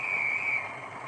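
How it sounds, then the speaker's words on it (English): A model train's guard's whistle: a shrill, steady tone that holds for about half a second and then fades, with a low rumble underneath. "The guard's whistle."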